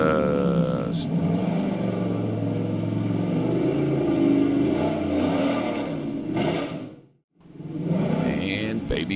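An off-road buggy at the Goat Hill hill climb race runs its engine hard, a loud continuous roar with rising and falling revs, cutting out abruptly near the end before picking up again.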